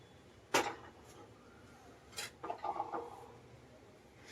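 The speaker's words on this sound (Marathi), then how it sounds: "ठेवूया आपण कुकर" A metal pressure cooker is set down on a gas stove in a home kitchen: one sharp clank, a light tap, then a short burst of rattling metal contact, all fairly faint against a quiet background.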